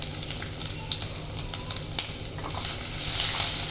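Cinnamon stick and crushed, peeled garlic frying in oil in a pan, a steady close sizzle with small crackling pops that swells louder near the end, no voices.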